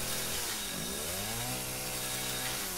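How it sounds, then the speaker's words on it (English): Chainsaw in Resident Evil 7 grinding through hard wood, a loud continuous buzzing drone with the motor pitch sweeping up and down as it bites into the wood, no talking over it. "that wood was so hard to chainsaw"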